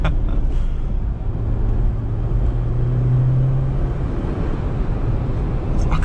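A 2021 Jeep Wrangler 80th Anniversary Edition accelerates hard, giving a loud, steady low engine and road roar inside the cabin with a rising drone in the middle, and no talk.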